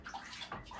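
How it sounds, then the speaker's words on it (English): Water running at home while bathing a Shih-Tzu dog, a continuous close splashing gush with small sloshing surges and no voices. "I'm gonna let him feel the water first"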